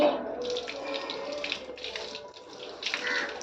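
Water is poured over household pets during a bath, a close, continuous splashing gush with small surges, and a voice speaks faintly underneath.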